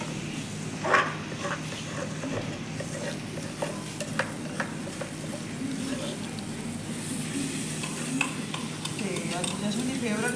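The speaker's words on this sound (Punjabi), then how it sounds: "ਆਪਾਂ ਜੀਰਾ ਫਰਾਈ ਹੋ ਰਿਹਾ ਹਨਾ" Cumin seeds fry in a pan with a steady, close sizzle and crackle, broken by a few sharp ticks and stirring scrapes throughout.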